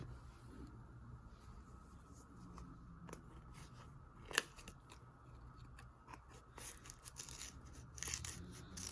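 Scissors snip through the top of seed-starting pellet packaging in a quiet indoor room, with one sharp cut standing out among soft crinkling and handling noises.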